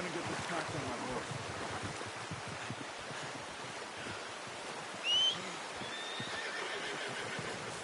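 Horse in the Red Dead Redemption 2 game world giving a short, sharp whinny midway through, heard over a steady wash of ambient outdoor noise and faint hoof movement.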